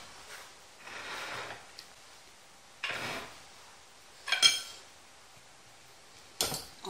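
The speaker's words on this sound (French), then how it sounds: "Là, je vais couper la viande" A knife cuts beef for a Thai salad in short, faint, irregular strokes, with a few soft clinks of the blade against a board or dish between quiet pauses.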